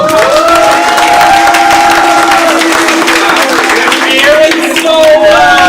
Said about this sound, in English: Let's go ahead and give a big round of applause to our producers who made the show possible.